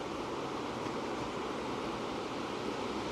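Steady ocean-surf ambience streamed from an iPhone's background-sounds feature, a continuous broadband wash of breaking waves at even loudness with no pauses and no voices.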